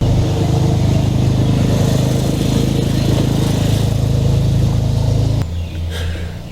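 A small engine-driven vehicle driven by a kid circles nearby, a loud continuous motor drone with a rough buzzing tone that drops off abruptly near the end, no talking.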